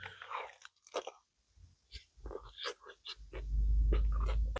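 Crunchy bites and chewing of a crispy lamb and veal shawarma with pickles, garlic sauce and fries, close up, with bursts of crackling between quieter moments and a low rumble building toward the end.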